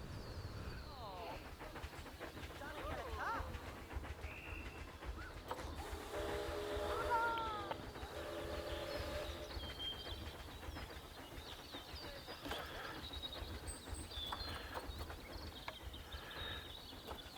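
A train ride plays in the video game Planet Zoo. A faint, steady rolling rumble carries clattering rhythmic knocks and a brief whistle-like tone, with quiet game ambience around it.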